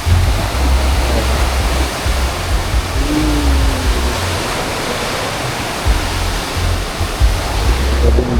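Ocean surf at a seaside spot in Iligan City makes a continuous loud wash of broken waves, with a low wind-like rumble underneath and slight swells in loudness.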